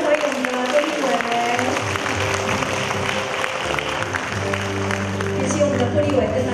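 An audience in an auditorium gives warm, continuous applause at a Hakka choir exchange performance, a steady patter of clapping with a voice and tonal sounds over it.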